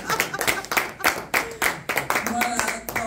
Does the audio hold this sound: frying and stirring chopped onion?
no